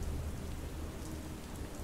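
Steady, heavy rain falls on waves that break against a ship at sea. The noise is a constant, even wash, moderately close and with no voices.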